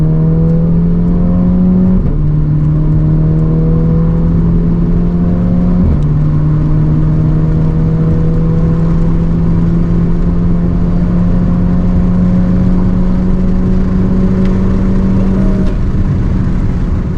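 A Skoda Laura fitted with a swapped 2.0L TSI engine revs and pulls hard, its steady loud engine drone rising in pitch across several gear changes with a whirring spool over it.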